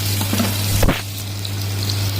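Ginger garlic paste is stirred into frying onions for fish soup, a close, loud sizzle with a low steady hum and a single scraping stir partway through.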